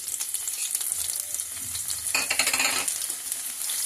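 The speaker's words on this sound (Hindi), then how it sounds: "तो लहसुन के भुनने का इंतजार करेंगे" Garlic sizzles steadily in a hot pan with cumin seeds and coriander, a dense crackling hiss with a louder burst of spattering midway, stirring clinks, no voices.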